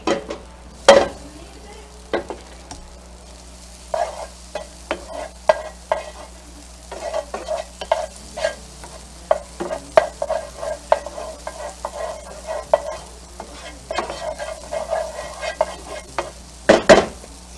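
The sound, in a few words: butter melting and sizzling in a pan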